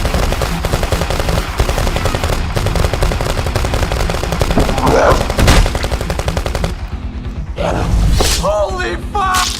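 Rapid automatic gunfire in a zombie video game, loud and continuous bursts with a few heavier shots and a brief lull near the end, under excited in-game voices.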